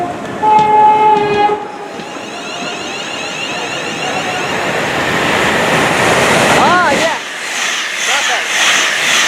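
At Watford Junction, Class 350 train 350119 arrives with a short two-tone horn blast, then a loud rolling rumble and clatter of wheels as it passes close by. Squealing brakes follow, and a platform announcement plays underneath.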